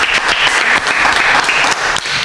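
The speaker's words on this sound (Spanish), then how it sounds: "Un aplauso." An audience applauds Maxwell, an artist showing paintings in Marbella, with a brief burst of close, dense clapping lasting a couple of seconds and no talk over it.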